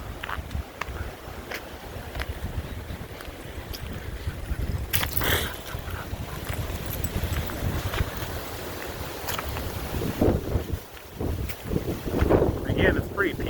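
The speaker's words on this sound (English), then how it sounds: "It's really windy. You can hear all the leaves and branches and stuff" Strong wind gusts rush through leaves and branches, with steady broadband rustling and buffeting close to the microphone throughout.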